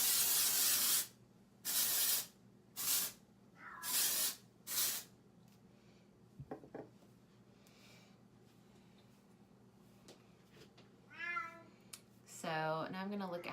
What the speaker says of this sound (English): I'm gonna use some of the Orbe Dry Texturizing Spray